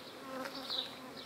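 A secondary honeybee swarm buzzes steadily at close range, a dense insect hum with no talking over it.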